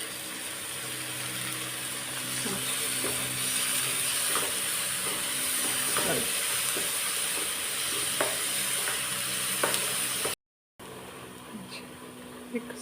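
Ginger, garlic and onion paste frying in a pan, a loud continuous sizzle with occasional scraping stirs, broken by a brief cut near the end.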